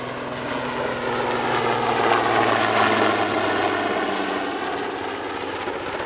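A Super Puma helicopter flies at an airshow, its engine and rotor making a loud, continuous droning whine with a rhythmic rotor beat that swells slightly and then holds steady.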